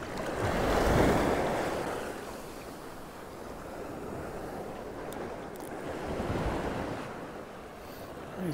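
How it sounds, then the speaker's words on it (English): Sea waves wash onto a beach shoreline at Waxham on the north Norfolk coast, UK, in a steady rolling surf that swells around the start and again later, with wind buffeting the microphone and no talk. "These waves are trying to get me here."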